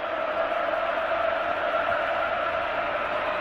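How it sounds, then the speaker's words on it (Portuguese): Corinthians supporters roar steadily in a packed football stadium during the 1999 Brasileirão semi-final against São Paulo, a dense, continuous wall of crowd shouting and chanting that stays distant and even throughout. "É a torcida do Corinthians agora que grita pelos pulmões."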